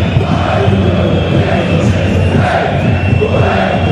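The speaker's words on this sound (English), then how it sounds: "the crowd strike up again" Stadium crowd at a football match between Energie Cottbus and RB Leipzig chanting and cheering in a continuous loud roar, with rhythmic group voices swelling and falling.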